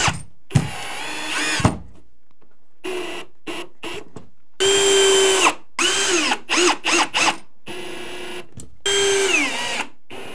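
A power drill drives screws to secure old drywall back to wall studs, with repeated short whirring bursts of varied length and pitch separated by brief silences, loud and close.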